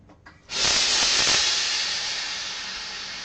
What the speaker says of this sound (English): I'm also going to go and turn off my iron because it's making weird sounds.